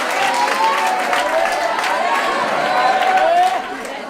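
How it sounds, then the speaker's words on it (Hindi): A class of students applauds a classmate in a mathematics lesson, brisk group clapping with a murmur of voices that runs steadily and then drops off sharply near the end. "ताली बजाओ इसके लिए"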